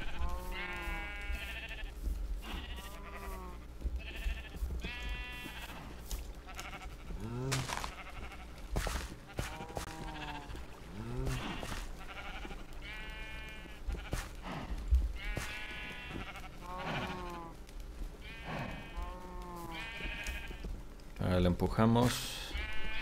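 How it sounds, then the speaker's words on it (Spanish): Minecraft sheep bleat repeatedly in short wavering calls, scattered throughout over steady game background sound, while someone talks through most of it. "Atraemos a nuestra oveja."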